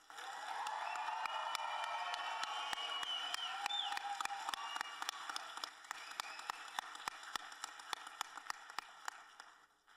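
An audience at a high school graduation applauds the class of 2023 in a sustained, dense wash of clapping with faint cheering. It thins out toward the end until only a few scattered, sharp claps remain.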